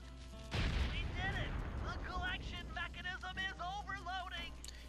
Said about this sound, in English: Explosions! Kablam!